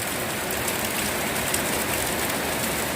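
Rain falls while the sun shines, making a continuous soft hiss of drops on surfaces that stays fairly faint and even throughout, with no voices.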